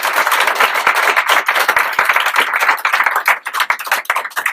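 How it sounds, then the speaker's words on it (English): Audience clapping at a dedication and ribbon-cutting ceremony for a law firm founders' room, dense and lively with many distinct hand strikes, loud and close, continuing throughout without talk. "So for all of them, please a round of applause."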